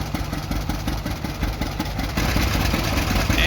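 An old John Deere G tractor engine runs after a flywheel start, thumping in a steady, slow two-cylinder idle rhythm, moderately close and alone, with a faint high whine above it.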